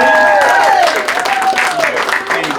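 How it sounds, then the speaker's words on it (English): Wedding guests applaud the bridesmaid Kelly, a dense, steady wash of clapping at close range with raised voices and whoops rising over it throughout. "So a big round of applause"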